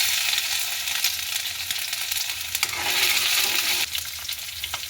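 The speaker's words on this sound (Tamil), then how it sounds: "இனி நாங்கள் இடித்து வச்சுருக்கிற இஞ்சி பேஸ்ட்டை இதோட சேர்க்க போகிறோம்." Ginger paste frying in a crab curry base gives a dense, steady sizzle with faint crackles throughout. The sound is close and continuous, with no voices.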